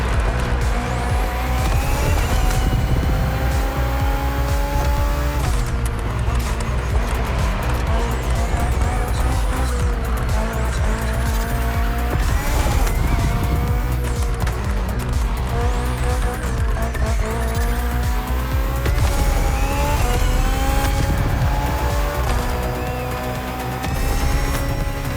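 A BMW Hybrid V8 race car in The Crew Motorfest roars continuously at full throttle, shifting through gears with tires squealing, loud and close throughout.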